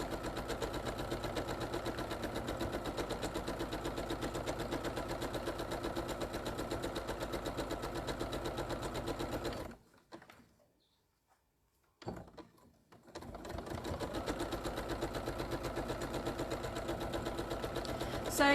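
A sewing machine stitches wildlife quilt panels with a quarter-inch seam in a steady, moderately loud rapid hum, which pauses into near silence midway, then resumes and runs on.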